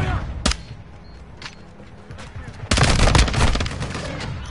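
Gunfire in Call of Duty Modern Warfare II on the Shipment map crackles in scattered single shots, then erupts into a loud sustained burst of rapid automatic fire near the end.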